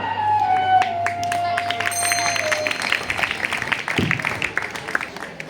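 A crowd applauds steadily at a school performance of a Krishna and Arjuna dialogue, dense clapping filling the space for several seconds, with a tonal music note fading out early on.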